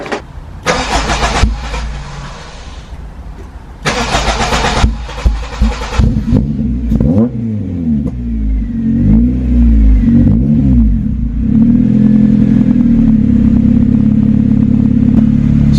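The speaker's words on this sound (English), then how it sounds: "I just want to make sure I can start it back up again, because it did take a while to start on that bigger battery" A Honda K20 engine swapped into a Renault Clio 182 cranks in two bursts, catches with a lumpy start, then revs up and down several times before settling into a loud, steady idle nearby.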